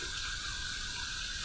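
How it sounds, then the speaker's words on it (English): Hot water runs steadily from a tap to warm an aluminum razor, a constant close hiss and splash with no pauses or voices. "We're going to heat this up under some hot water"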